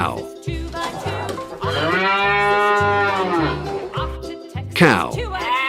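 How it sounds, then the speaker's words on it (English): A cow moos loudly and close by, with a long drawn-out lowing call in the middle and shorter moos before and after. "Cow."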